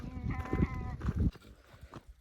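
Goats bleat in short wavering calls, two or three close together, then quieter rustling and shuffling follow.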